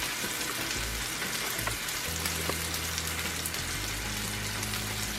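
Japanese Wagyu steak sizzles steadily in a pan seasoned with kosher salt, a continuous crackling hiss with a low hum beneath, close and moderately loud with no talking.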